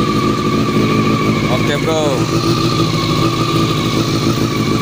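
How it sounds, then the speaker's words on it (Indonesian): A Honda CBR NC23 four-cylinder motorcycle engine runs steadily at close range with a constant loud drone. Someone speaks briefly over it. "ada motor 4 silinder guys. 4 silinder guys."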